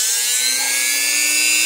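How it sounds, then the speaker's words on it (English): A Dremel rotary tool fitted with a serrated, hacksaw-style round cutting disc whines steadily at high speed, loud and close, with no talk over it. "just a Dremel with a little, I guess, round disc"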